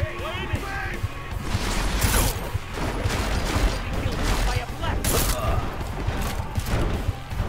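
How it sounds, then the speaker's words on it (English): Shotgun fire from the video game Deus Ex: Mankind Divided: two sharp, loud blasts about three seconds apart cut through a dense bed of clattering combat noise and mechanical rumble. "the fucking shotgun"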